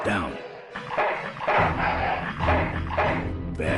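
Dog barking in the Full Throttle Remastered video game, a few short yips and barks mixed in with game sounds and a voice talking over them.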